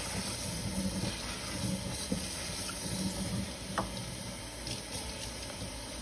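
Tap water runs steadily while dyed clothes are rinsed, shifting from cool to warm water, a continuous close hiss of flow and splashing throughout with no voices.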